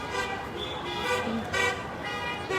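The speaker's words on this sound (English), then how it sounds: "you can also hear those horns honking" Several car horns toot in short bursts at a distance, over a low rumble of traffic and faint background voices.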